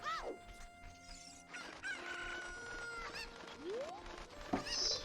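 Chickens and a crowing rooster in a Zelda video game, with several overlapping squawks, clucks and warbling crows at moderate level and no talk.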